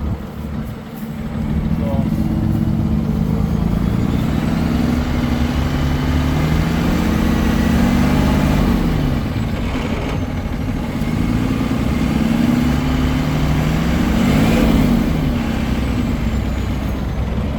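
A 2012 Freightliner M2 Altec forestry bucket truck with a 6.7 liter engine runs steadily and loudly up close, a deep continuous diesel rumble with slight swells and dips over many seconds and a faint hiss on top.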